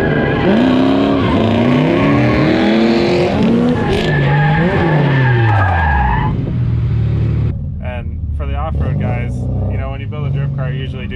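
A Yamaha YXZ side-by-side and a New Edge Mustang drift, engines revving hard and tires squealing loudly in long sweeping skids. A voice talks over the engine noise.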